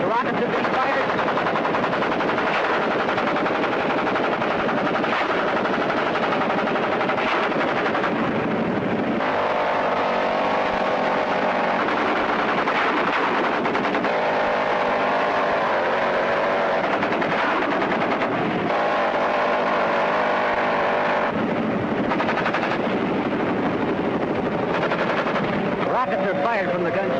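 A helicopter gunship in a steep bank fires rockets and miniguns ahead of an infantry drop, giving long, loud, rapid bursts of automatic fire and blasts over a constant engine roar.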